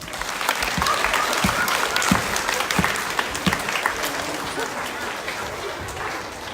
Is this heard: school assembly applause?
yes